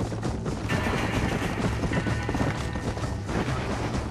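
Gunfire from horseback in the Western video game Red Dead Redemption, a dense continuous clatter of shots and hoofbeats running steadily throughout without a break.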